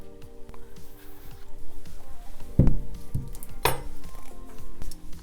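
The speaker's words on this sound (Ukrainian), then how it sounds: "Далі до води я додаю одну столову ложку цукру" A spoon adding sugar to warm water and stirring for Easter paska dough, with a few sharp clinks of metal against a bowl in a quiet kitchen.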